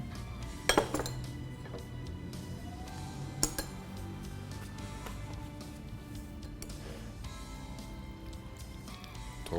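Potato salad tossed with mayonnaise in a bowl, with soft scraping and a few sharp clinks of a utensil against the bowl, a louder clatter near the start and another mid-way.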